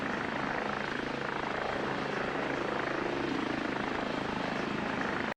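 A Leonardo AgustaWestland AW109 helicopter, a luxury charter model, flies steadily with a continuous loud rotor and turbine drone. The sound is unbroken and even throughout, with no voices.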